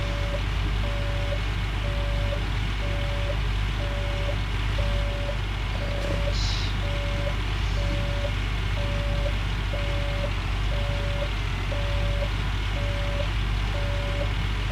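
A truck in the game Gold Rush reverses with a steady series of evenly spaced beeps over a constant loud engine drone.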